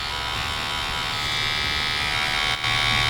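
A tattoo machine fitted with a 13 magnum needle buzzes steadily and loudly up close, a constant electric drone with one very brief dip near the end.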